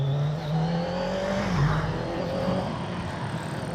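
A 2025 Kawasaki Z900 SE motorcycle cruises along on cruise control, its engine a steady droning hum with slight rises in pitch, accompanied by continuous wind rush.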